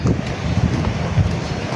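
Wind buffets the microphone in a steady low rumble with a few stronger gusts, no voices present.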